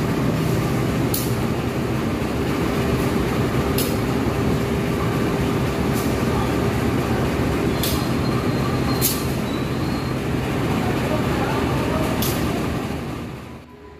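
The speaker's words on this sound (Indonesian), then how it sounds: "Yang saat ini tengah datang di jalur 3 stasiun Lempuyangan adalah kereta api Progo" Progo passenger train pulling into track 3 at Lempuyangan station, a loud continuous rumble of wheels and carriages with periodic sharp clacks at rail joints, fading slightly at the end.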